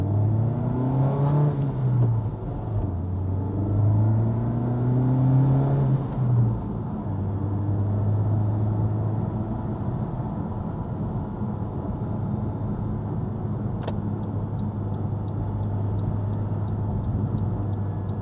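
A Honda Civic Type R drives along with its engine rising and falling through a few gear changes, then settling into a steady drone with constant road and tire noise inside the cabin, loud and close with no talking.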